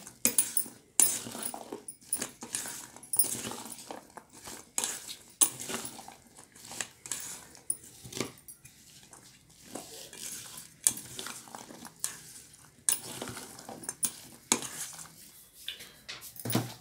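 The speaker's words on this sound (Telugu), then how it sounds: "నిమ్మరసం కూడా వేసుకున్నానండి, కలిపేసుకుంటున్నాను ఇప్పుడు" A spoon clinks and scrapes against a bowl, mixing a masala rajma snack with lemon juice, in irregular close bursts of metallic tapping and stirring with quiet gaps between.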